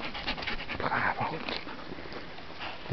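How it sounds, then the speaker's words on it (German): White dogs pant rapidly and fairly quietly beside a barbecue hut outdoors, a steady breathy rhythm with a soft whimper, while someone speaks German nearby. "Braver Hund."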